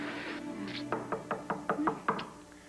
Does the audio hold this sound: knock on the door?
yes